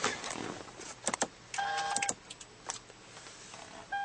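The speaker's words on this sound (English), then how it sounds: "Power seats." A power seat motor in a 2011 Toyota Sienna whirs in short electric bursts with a brief steady whine partway through, quiet and close, with no talking.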